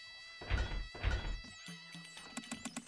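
A horse whinnies in the strategy game Stronghold: Crusader. The short, wavering cry rises over game sound effects and is followed by a quick run of clopping hoof taps.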